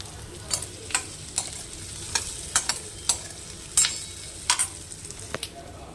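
Ginger, garlic and chilies followed by capsicum and onion stir-fried for paneer chilli, with a steady sizzle under repeated sharp spatula scrapes and clinks against the pan, close and moderately loud.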